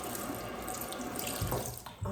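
Water runs steadily from a sink tap set at shoulder height in a cottage bathroom, a continuous close hiss with a few bumps of hands or objects under the stream near the end, and no voices.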